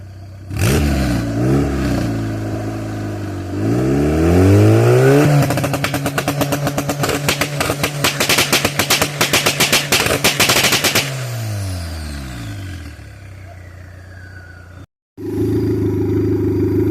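A turbocharged Honda D-series engine in a budget car build revs up and down repeatedly, then erupts into a long burst of loud, rapid popping and crackling. It falls back through a few more revs before a brief cutout and a steady idle.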